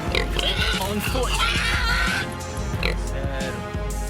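Wild boars on a Texas farm grunt and snort in a series of rough, close oinks, with a voice talking over them.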